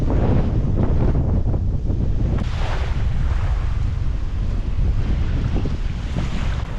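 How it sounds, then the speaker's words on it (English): Strong wind roars across the microphone beside the ocean at a rock pool near Captain Cook's landing place in Australia, a loud, steady rumbling gust with surf washing beneath it and no one talking. "Whoa, the wind's picking up."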